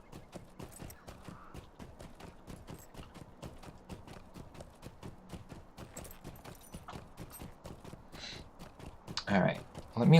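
Steady horse hooves clip-clop in a rapid, regular rhythm as a mount rides along a road in Lord of the Rings Online, with a brief louder burst near the end.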